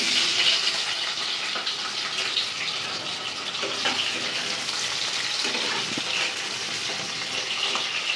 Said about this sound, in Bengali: আলুটাকে একটু ভাজি। গরম হয়ে গেছে তেলটা